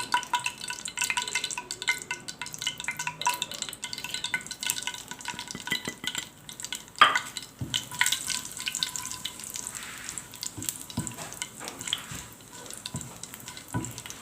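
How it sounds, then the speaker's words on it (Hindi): Round dried chillies fry in hot oil with a steady close crackling sizzle throughout, broken by occasional sharper pops and a brief louder spatter midway, with no talking. "ऑयल गरम हो गया, मैं ये गोल वाली मिर्चें शामिल कर रही हूँ। ये थोड़ी सी फ्राई करूँगी"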